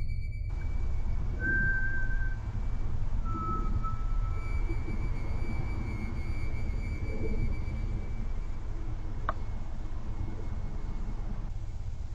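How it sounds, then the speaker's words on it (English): Faint, eerie whistles drift over a steady rushing night hiss, a few thin drawn-out tones spaced apart with a brief sharp chirp later. "eerie sounds and creepy whistling can be heard in the background"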